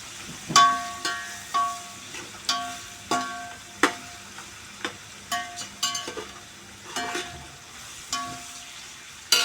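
Onion and tomato fry in a pan for veg biryani as a spoon stirs and scrapes, making a series of sharp clinks and scrapes about every second over a quiet sizzle, with no talk.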